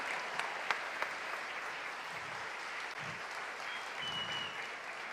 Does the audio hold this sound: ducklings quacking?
no